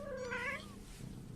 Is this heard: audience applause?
no